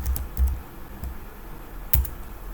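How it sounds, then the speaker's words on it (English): A shortcut name being typed on a computer keyboard, a few quick, distinct key clicks with short pauses between them, close and clear over a faint room hum. "I'll type in Crystal Hustle YouTube."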